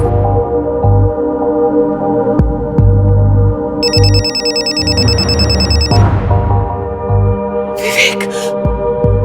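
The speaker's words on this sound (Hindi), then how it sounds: "सर कंचन जी के फोन पे विवेक का नंबर फ्लैश हो रहा है।" A mobile phone rings with a loud, repeating electronic ringtone pattern, heard close up over a low background hum, with brief higher electronic tones in the middle and toward the end.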